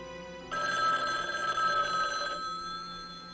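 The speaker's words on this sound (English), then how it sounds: "Dan, answer the phone." A telephone bell rings loud and continuous for about two seconds after a brief quiet start, then fades, in a 1979 television drama scene.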